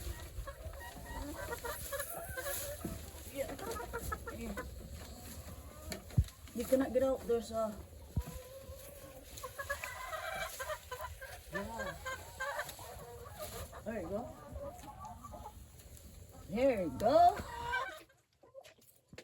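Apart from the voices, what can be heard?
penned birds clucking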